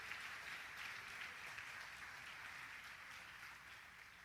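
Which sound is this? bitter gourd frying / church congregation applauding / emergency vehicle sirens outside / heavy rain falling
church congregation applauding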